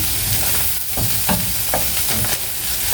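Eggs frying in a pan are stirred with a utensil, giving a steady close sizzle with several scraping strokes over about three seconds, no voices.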